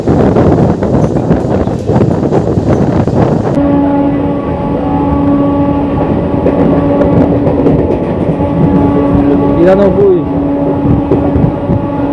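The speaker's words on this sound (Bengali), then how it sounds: "হাওড়া স্টেশন থেকে 24 কিলোমিটার কভার করে আমাদের ট্রেন এসে পৌঁছালো বালুইপাড়া" A Howrah–Purulia MEMU local train runs near Baluipara with a loud, constant rolling roar and wheel rumble. The sound shifts partway into a steadier hum with a faint whining tone.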